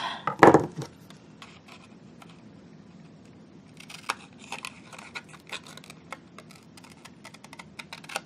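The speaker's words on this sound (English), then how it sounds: "I'm gonna do it with my scissors." Scissors snip repeatedly in quick, irregular bursts after a brief rustle, with small crisp cuts close up and quiet gaps between them.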